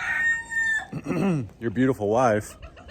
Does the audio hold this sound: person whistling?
no